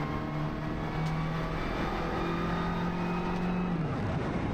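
Race car on a straight during a Japan Cup race at Okayama, engine droning loud and steady with tonal pitch shifts as it goes into sixth gear, then the pitch drops away near the end.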